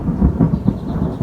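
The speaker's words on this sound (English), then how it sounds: "that is some dramatic thunder" Deep rolling thunder rumbles loud and close through a garden during a storm, a sustained low growl swelling and ebbing with faint rain behind it and no voices.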